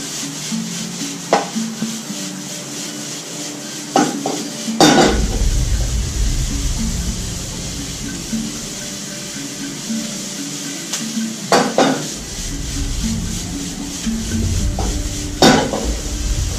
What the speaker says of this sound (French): il faut touiller en permanence, il faut bouger en permanence, autrement il va être cramé